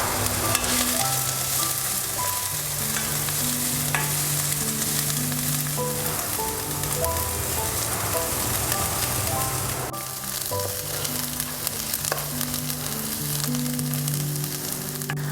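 Drumstick leaves sizzling in a pan with cumin, pepper and coriander, a steady soft frying hiss through the whole stretch under a background of sustained music tones.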